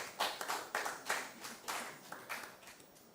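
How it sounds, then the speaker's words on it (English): Scattered, uneven clapping from a small quiz audience at a school competition, individual hand claps distinct and fairly faint, a few pairs of hands beating out a loose rhythm rather than a full ovation. "Please, a round of applause."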